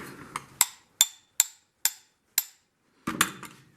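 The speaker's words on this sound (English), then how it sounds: "I got me some wrenches. I'm going to assume they're 1/2 inch" Metal half-inch wrenches clanking against an AC Model B fuel pump, a series of sharp, evenly spaced metallic taps close by with quiet gaps between them and a busier clatter at the end.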